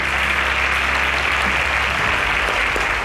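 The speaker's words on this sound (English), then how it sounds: "A round of applause for them." Applause from a group at a quiz competition semi-final, dense steady clapping throughout at a consistent loud level.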